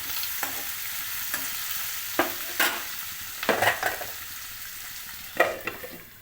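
Sliced onions with turmeric sauté in a pan, a soft steady sizzle broken by several sharp scraping stirs of a spoon against the pan, close and with no talking.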